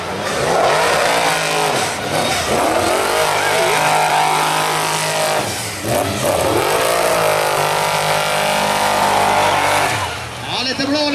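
Monster race cars at a 2019 Swedish monster race event, engines roaring and revving loud and near almost without pause, with tire squeal and an excited commentator talking over the noise throughout.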